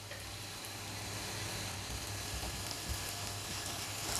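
Onions frying in a pan as tomatoes go in, cooking for an Afghani omelette with eggs and potatoes; a steady, close sizzle crackles throughout with no talking.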